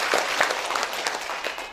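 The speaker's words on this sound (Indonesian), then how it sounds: "Boleh beri tepuk tangan untuk Bapak Ibu sekalian." An audience at a formal seminar on family welfare and population policy breaks into a short burst of dense clapping, a steady moderate round of applause heard alone.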